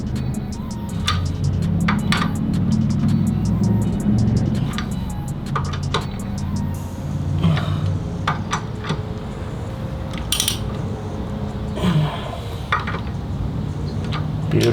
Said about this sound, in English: So to tighten these, you always want to go